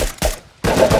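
Bursts of automatic gunfire from the video game Uncharted: The Lost Legacy, two loud rapid volleys separated by a brief gap, close and sharp with no talk.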